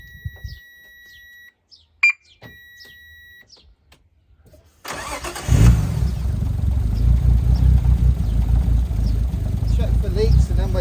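A Nissan R33 Skyline engine cranks and fires after a few seconds of quiet chimes and beeps, then settles into a loud, rough running rumble with rising revs, heard up close.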